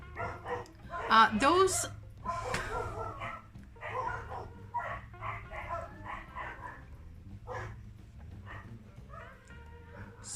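A pet dog gives a few short barks and high whimpers close by, mixed in with a person talking over it indoors.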